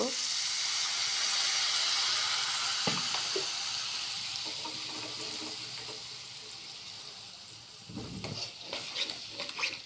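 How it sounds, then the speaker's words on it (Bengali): A fish curry spice paste sizzles and fries in a pan, the hiss slowly fading as water is added, then a stirring, bubbling burst near the end; no talk. "এবার আমরা একটু মশলাটা কষিয়ে নেওয়ার জন্য হালকা পানি দিব"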